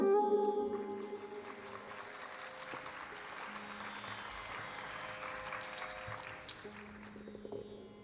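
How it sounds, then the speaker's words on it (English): An audience claps for a dancer after a Bharatanatyam arangetram, with sustained steady applause throughout and lingering musical tones at the start. "Let's give her another round of applause."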